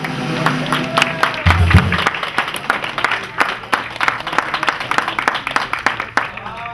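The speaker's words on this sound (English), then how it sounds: "how about a big wild round of applause for Mr." A wedding crowd claps in a loose burst of applause for the newlyweds, many sharp hand claps overlapping, with a low hum underneath and scattered voices.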